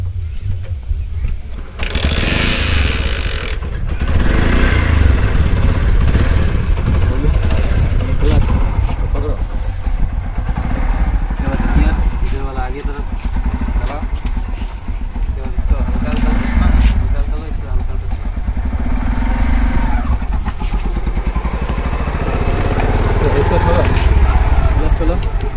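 A motorcycle engine runs steadily and loudly close by while a boy learns to ride, its drone persisting under nearly constant talk from people nearby.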